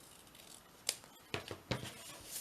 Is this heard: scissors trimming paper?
yes